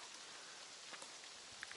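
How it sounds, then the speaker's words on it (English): Rain dripping from trees in cool, slightly windy woods beside a lake, a steady soft patter with a few louder drops near the end, faint and continuous. "rain is dripping from the trees"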